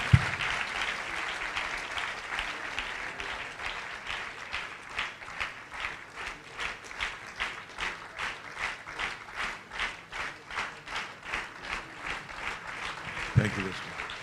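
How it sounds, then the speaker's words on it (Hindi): An audience at a church gathering claps continuously, settling into rhythmic unison beats that stay moderately loud for the whole stretch, with a brief voice near the end. "आइए तालियां बजाते रहें निरंतर"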